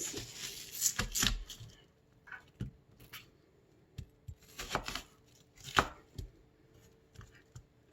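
A knife chops sweet Vidalia onions on a cutting board in close, irregular bursts of crisp thuds and crunches with short pauses between them, with no talking.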